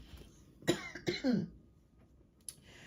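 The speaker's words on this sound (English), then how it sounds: "I have had this hacking cough" A few harsh, hacking coughs close to the microphone, followed by a short throat-clearing sound after a pause.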